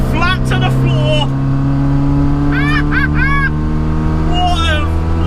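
A Classic Mini engine pulls at full throttle, a loud steady drone from inside the car with rising harmonics throughout, while someone speaks over it in short bursts.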